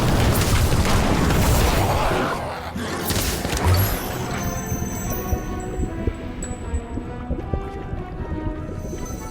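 The Incendio fire spell goes off in Harry Potter Magic Awakened: a loud, close burst and roar for about two seconds, then settling into a quieter crackling battle bed with scattered hits and game sounds.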